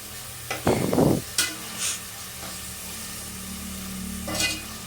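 Millet roasts in a pan for kichdi and is stirred now and then, making a low sizzle broken by a few loud scraping strokes and clinks, close by and without talk.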